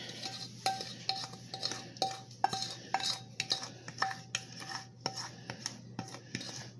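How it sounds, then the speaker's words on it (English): Cornbread batter is scraped from a mixing bowl into a cast iron skillet, a steady series of close spoon-on-bowl scrapes and light clinks, roughly a dozen strokes in irregular rhythm, with no talking. "I'm going to just scrape my bowl and let the mix run into the skillet again"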